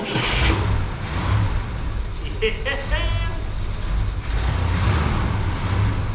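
A 1968 Cadillac Eldorado engine that had sat for over 20 years runs with a steady low rumble and loud, full-band roar, swelling near the start and again toward the end, with brief voices heard over it.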